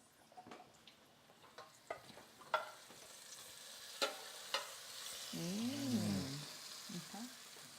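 Sweet potato and tomatoes being sautéed in a pan, soft sizzling with sharp utensil taps and scrapes, then a brief bright squeaky tone near the end, fairly quiet and close.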